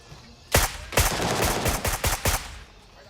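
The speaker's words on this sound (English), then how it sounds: "God, what some terrible shooting I just did." Gunfire in the military shooter game Gray Zone Warfare: a burst of loud, close shots from about half a second in, then several more sharp cracks in quick irregular succession before fading out.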